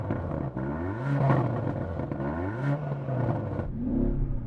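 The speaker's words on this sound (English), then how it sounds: "So I'm going to rev up." An Audi SQ8's engine revs hard several times, rising and falling in repeated sweeps with a throaty, close-up roar that fills the clip.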